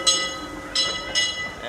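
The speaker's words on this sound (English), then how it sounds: "Oh, I hear a train coming." A train rolling round a bend at Disneyland, heard as a steady rumble with bright hissing bursts rising three times at even intervals, fairly close and with no talk over it.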